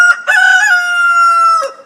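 A single loud, drawn-out crow from a Barred Rock chicken rings out close by, rising then holding for over a second before cutting off.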